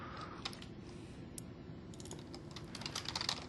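Soft, quick keystrokes on a computer keyboard as a serial number is typed into a web form. The clicks come in an irregular run and grow busier toward the end, over a steady low background hum.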